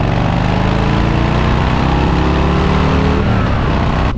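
2022 Harley-Davidson Low Rider S motorcycle being ridden, a loud, steady low engine rumble with wind noise, holding a constant pace and easing slightly near the end, no talking.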